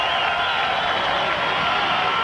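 Crowd at a 1996 bowling tournament in the Tri-Cities Coliseum, a steady loud wash of many voices and ambient hall noise filling the whole stretch, with occasional faint cheers.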